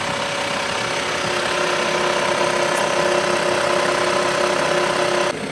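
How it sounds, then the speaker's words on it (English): An idling Jeep JT Gladiator with a loose exhaust needing a clamp gives a steady, close engine drone with a faint metallic rattle running through it, unchanging throughout. "Ignore that little rattle. Got an exhaust I need to clamp up a little bit."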